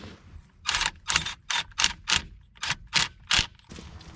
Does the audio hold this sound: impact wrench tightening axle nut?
yes